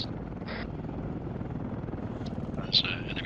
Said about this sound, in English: Helicopter is northeast of the objective, 900 meters.